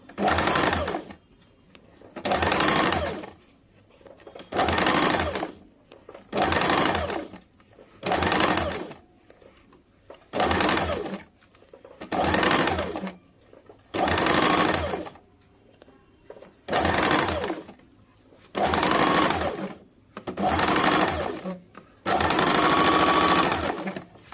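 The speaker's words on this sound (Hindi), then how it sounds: "इस प्रकार से फोल्ड करते हुए पूरे गोलाई से सिलाई चला देंगे।" A sewing machine stitches around a kurta neckline in ten or so rhythmic bursts, each a few seconds long and separated by short pauses, close and clear with no talking.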